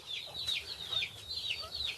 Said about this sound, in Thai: ไก่เด็ดนะครับ สายพันธุ์ พม่าผสมง่อนนะครับ